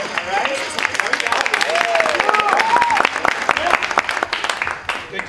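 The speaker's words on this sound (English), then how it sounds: "you do applaud when the applause sign goes on" A studio audience at a live Christmas Carol radio broadcast claps steadily in a dense burst of applause, with voices and cheers mixed into it.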